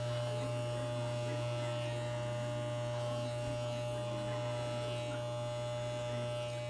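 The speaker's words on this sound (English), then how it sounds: "it's kind of hard when you got to hold on to it and shave at the same time" Electric shaver trimming the fur of a bunny fursuit, giving a steady, unbroken mains-like hum and buzz at constant level throughout, close to the microphone.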